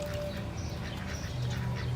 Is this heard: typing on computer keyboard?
no